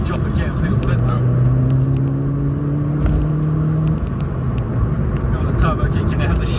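A Mk1 Ford Focus RS with its turbo kicking in gives a steady, loud engine drone with a rising whine as it pulls, heard from inside while a person talks over it.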